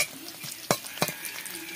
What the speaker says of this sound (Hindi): पहले जो पकौड़े बना के हम रखे थे उसके साथ में एक बार तेल में फ्राई करा लेंगे